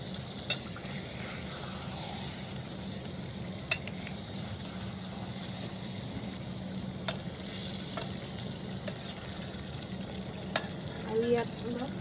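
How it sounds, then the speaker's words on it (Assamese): Pieces of meat fry in a pan while being stirred, a steady close sizzle broken by sharp utensil clinks and scrapes against the pan. "এইখিনি মাংসখিনি অকণমান লৰাই দিওঁ, নহ'লে তলত লাগি যাব পাৰে।"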